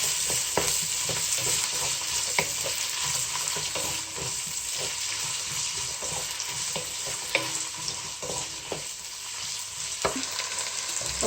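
Onion frying in a pan for coconut rice, a steady close sizzle with stirring scrapes and occasional sharp utensil knocks throughout, no voices.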